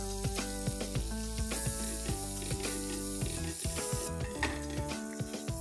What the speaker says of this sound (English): In a hot pan, I'm going to heat a little bit of butter